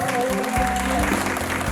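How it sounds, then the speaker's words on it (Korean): Brief applause from a workshop audience at a nonprofit startup networking day in Daegu, a soft, fairly distant patter of many hands with sustained tones running underneath. "큰 박수 좀 부탁드리고"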